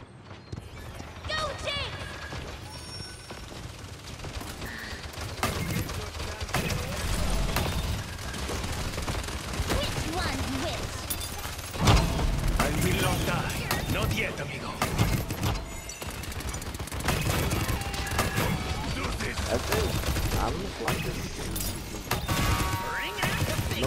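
Rapid gunfire and ability effects in the PS4 hero shooter Paladins, dense bursts of shots and impacts running continuously under loud game music and a player talking.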